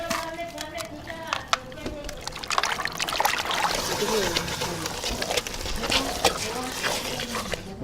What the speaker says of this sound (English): now he added water into the chicken and the water is just completely clear